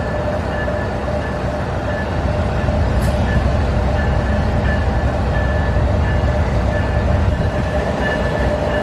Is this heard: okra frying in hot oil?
no